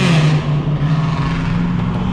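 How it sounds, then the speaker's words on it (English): A nearby V6 truck engine hums and revs with a steady low drone, loud and continuous, like a vehicle running under load. "That V6 has revved it under every bridge we've gone through."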